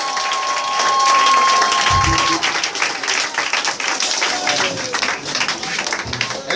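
A church audience at a deliverance session applauds and cheers for Jesus: loud, dense, sustained clapping with raised voices through the whole stretch, swelling at first and then holding steady.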